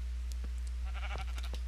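Several short sheep bleats from Minecraft, a few brief calls scattered across a steady low background hum, moderately faint, with no talking.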